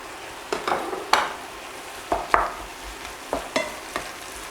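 Minced meat and sliced mushrooms sizzle in a frying pan over moderate heat, with a steady crackle broken by several sharp scraping stirs, close and fairly loud, no talking.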